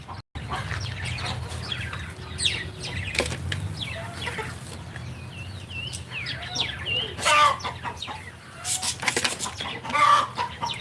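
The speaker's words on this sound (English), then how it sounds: "Let me show you these two roosters again, going at each other." Two roosters fight in a farmyard with a turkey nearby, giving loud clucks, squawks and bursts of wing flapping in irregular scuffles. The noise is close and fairly loud and keeps going throughout.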